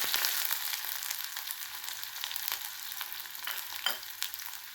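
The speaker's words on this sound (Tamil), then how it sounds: "அந்த வெங்காயத்தை ஒரு கிண்டு கிண்டி விட்டுட்டு" Onion frying in oil with mustard seeds and dal for a pumpkin poriyal, a soft steady sizzle broken by a few spatula scrapes and clinks as it is stirred, with no voices.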